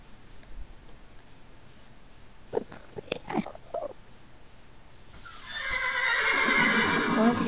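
Horses in the video game Minecraft whinny and snort in short bursts, followed by a louder, rising neigh with a breathy, rumbling finish; no talking.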